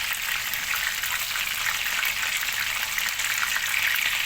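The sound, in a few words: chicken frying in oil for sizzler biryani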